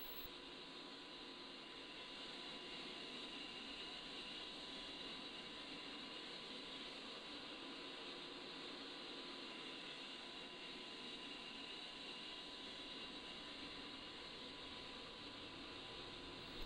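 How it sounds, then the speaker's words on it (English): An A-10C jet engine spools up in the DCS World flight simulator, a faint, steady turbine whine and rushing drone holding level throughout with a thin constant tone. "As the engine spools up,"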